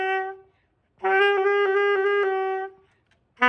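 Saxophone playing a short exercise: a brief note, a pause, then a sustained tone with quick finger changes rippling through it, close and clear, cut off by the start of another note.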